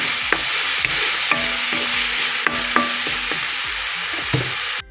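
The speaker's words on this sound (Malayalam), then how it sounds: "മുളക് എല്ലാം കൂടെ ചതച്ച് വെച്ചിരിക്കുന്നത് നമുക്കിട്ടൊക്കെ ഒന്ന് വഴറ്റിയെടുക്കാം." Crushed chillies sautéing in a pan for a black pepper fish curry, a steady close sizzle with regular scraping stir strokes and light clicks of the spoon, no voices.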